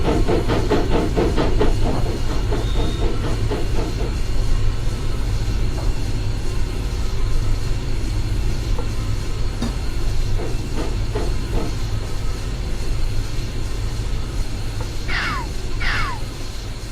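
Cab forward steam locomotive on Donner Pass in Train Simulator 2015, giving a steady hiss of steam over low rumbling and rhythmic clanking, with two short sharp high squeals near the end; no talk.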